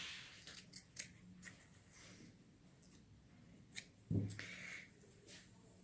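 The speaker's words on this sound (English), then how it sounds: "So I'm going to cut this part in half." Scissors cut fabric in half while a sock snowman is being made, giving a few quiet, scattered snips and soft rustles, then one sharper, louder snip near the end.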